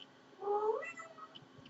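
A house cat gives a single short meow, close and fairly quiet, with brief faint rustles after it.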